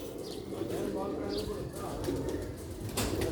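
Sialkoti pigeons at a loft give low, soft coos in a continuous murmur, with a few chirps and a brief flutter, while someone talks over them throughout.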